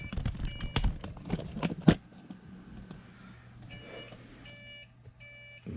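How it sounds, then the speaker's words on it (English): A PC motherboard sounds a four-beep error code, a sequence of short, thin electronic beeps in groups following some knocks and handling noises at the start, in a quiet room. "I was getting a 4 beep motherboard code"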